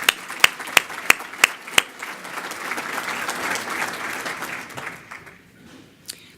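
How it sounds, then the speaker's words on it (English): A community audience at a county State of the County event breaks into applause, opening with a few sharp individual claps before swelling into sustained clapping from the crowd that fades away near the end. "Let's give them a round of applause."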